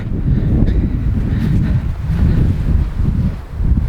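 Steady wind buffeting the microphone at a disused railway tunnel on the Whitby to Loftus line, a loud low rumble that gusts and swells continuously with no voices.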